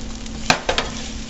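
Turkey bacon and potatoes fry in a hot pan, a steady soft sizzle under a couple of quick scrapes and clinks of a utensil being moved through the food.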